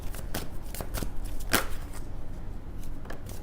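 Tarot cards shuffled and drawn from a deck during a reading, a close quiet series of soft riffling snaps and slaps, one sharper flick standing out in the middle.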